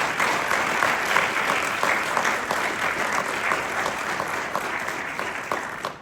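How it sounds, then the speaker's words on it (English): An audience at a military retirement ceremony claps in a sustained, dense round of applause, steady and fairly loud throughout before fading at the very end. "we need a huge round of applause for Julie and the 6 boys, please."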